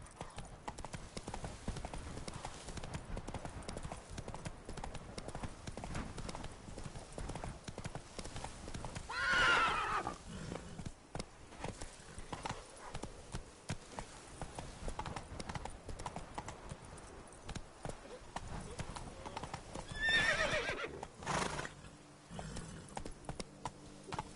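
Roach, a horse in The Witcher 3, gallops with a steady clatter of hooves and neighs twice, loud whinnies standing out above the running hoofbeats and background game sounds.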